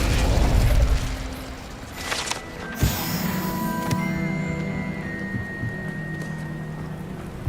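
Incendio, the fire spell in Hogwarts Legacy, gives a roaring, crackling burst with a few sharp pops and a lingering tonal shimmer over a steady game background, with no voices.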